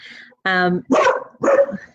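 A puppy barks outside in a few short, sharp bursts, each clearly separated by brief pauses and fairly close.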